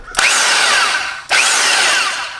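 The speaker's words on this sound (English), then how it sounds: "We're going to go here to hammer drill." ENEACRO SDS-Plus rotary hammer drill running in hammer-drill mode: two loud, close bursts of whining, rattling motor noise, each roughly a second long, separated by a brief pause, with no voices.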